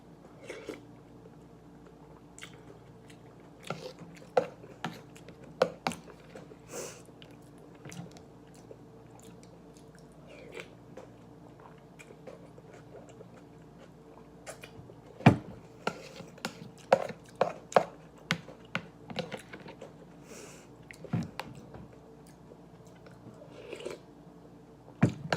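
Ginger tofu soba noodle soup being eaten close up: soft slurps, chewing and occasional crisp clicks of bowl or utensils, scattered irregularly over a quiet background with no talk.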